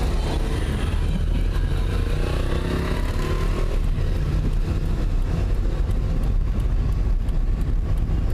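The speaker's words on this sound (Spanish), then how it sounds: "Ciudades donde abundan las motos, como en toda Colombia." Motorcycle traffic on the streets of Sahagún, Córdoba, Colombia, a continuous loud engine drone and rumble of passing bikes with street clatter, steady throughout without talk.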